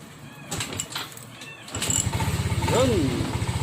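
A Yamaha Mio 125 scooter engine, checked for error code 42 or 46, fires up partway through and settles into a steady, fairly loud idle with a rhythmic putter. Before it starts there are scattered clicks and a brief whine, with speech nearby.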